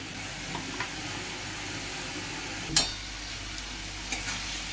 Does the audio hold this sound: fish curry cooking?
yes